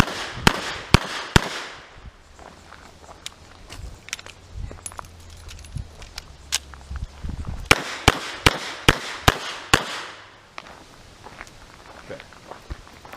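A WW1 Colt Model 1917 New Service revolver in .45 ACP fires in two rapid strings of sharp, loud shots outdoors, with about six cracks in each. Quieter handling clicks and footstep noises fall between the strings.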